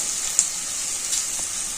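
Potatoes dropped into chopped onions frying in a pan, giving a steady, soft, hissing sizzle with a couple of faint pops and no voices.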